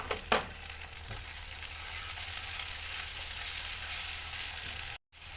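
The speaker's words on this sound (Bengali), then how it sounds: "আমার টমেটো দিয়ে কষানো হয়ে গেছে।" Chopped tomatoes frying in a pan after ginger and garlic, a continuous hissing sizzle with a couple of sharp stirring knocks near the start, steady throughout until a brief dropout near the end.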